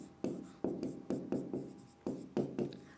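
Chalk or marker strokes hit a board during a handwriting lesson, about eight sharp taps and scrapes in an uneven rhythm, close and clear with no talk.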